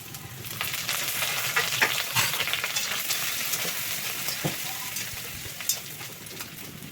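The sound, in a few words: garlic, ginger, green chillies and curry leaves frying in coconut oil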